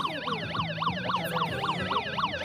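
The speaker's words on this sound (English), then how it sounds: "blaring sirens right here is assault" Emergency sirens blare at a street protest, a fast wailing yelp sweeping up and down in a regular rhythm, loud and close throughout with no talk over it.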